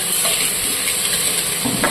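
Potatoes fry in oil in a home kitchen pan, a steady loud sizzle with utensil stirring and scraping sounds, no voices.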